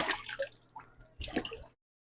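Clay pottery tumbler being wet-washed with water by hand: two short, quiet bursts of wet splashing and dripping, close by, with a brief pause between them and then silence.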